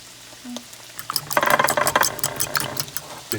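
An egg frying in a pan for an omelet gives a short, bright sizzle that swells after a quiet start, close and moderately loud, with no talk over it.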